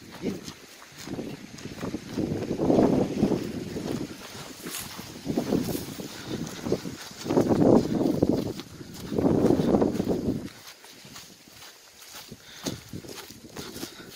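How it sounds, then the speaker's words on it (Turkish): Gusty wind blowing outdoors across an open site, loud broadband rushing that swells in several strong gusts and drops away toward the end, with no speech over it. "Rüzgar var burada, rüzgar."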